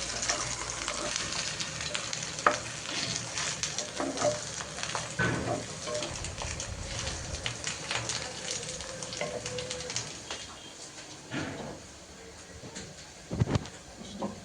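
A thick chapti flatbread made with green chillies fries in oil over low heat, a continuous soft sizzle with scattered crackles and stirring clicks, fairly faint and steady throughout.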